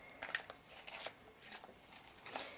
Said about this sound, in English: So I'm gonna sharpen my pencils real fast.